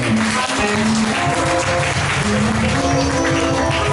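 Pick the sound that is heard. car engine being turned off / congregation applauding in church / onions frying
congregation applauding in church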